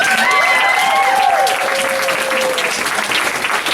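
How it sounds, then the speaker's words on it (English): Loud audience applause at a martial arts school graduation ceremony, dense clapping throughout, with a few whistles or cheers rising briefly near the start. "All right, audience, give them a round of applause."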